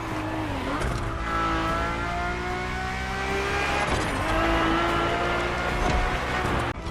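A race car engine in The Crew Motorfest screams loud and close, climbing through the revs with quick gear changes and a faint tire squeal, and nobody speaks.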